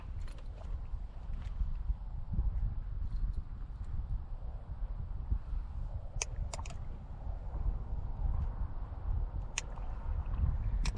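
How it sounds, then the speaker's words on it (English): Steady low rumbling and knocking of an aluminum boat hull, with occasional sharp clanks, continuous and fairly close. "Forgot how noisy an aluminum boat is."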